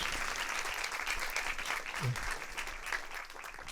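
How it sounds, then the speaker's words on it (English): An audience at an interview event on James Baldwin claps steadily in a round of applause, a dense, even wash of hands from a moderately distant crowd lasting the whole few seconds. "Give him a round of applause."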